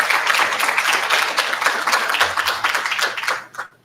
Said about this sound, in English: Give NCC a round of applause.